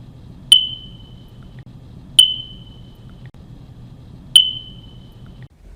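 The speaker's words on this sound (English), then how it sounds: "I think I hear a smoke detector that's beeping slowly, beeps that are spaced far apart." A smoke detector gives a slow low-battery chirp: three short, sharp high beeps spaced about two seconds apart, each ringing briefly over a quiet low hum in a fire station.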